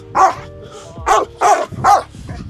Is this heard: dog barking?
yes